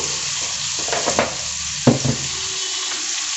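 A brinjal and tomato curry is stirred in a pan over the stove, giving a steady sizzle with a few scraping strokes of the spoon near the middle.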